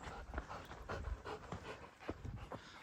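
A puppy pants steadily outdoors, rapid breathy huffs repeating close by with no talk.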